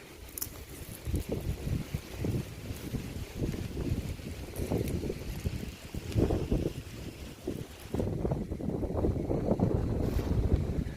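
Strong wind roaring steadily outdoors ahead of rain, buffeting the microphone with gusts throughout.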